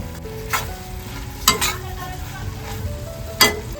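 Dried fish and broad bean curry sizzling in a pan while being stirred, with three distinct scraping strokes over a steady close frying hiss.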